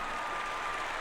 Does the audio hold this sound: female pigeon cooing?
no